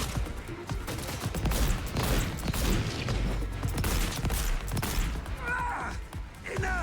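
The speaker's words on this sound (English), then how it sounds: "I'm trying to like shoot him non-crit." Gunfire in a first-person shooter video game, with repeated shots fired rapidly throughout, dense and loud, mixed with game effects and a brief mechanical whine near the end.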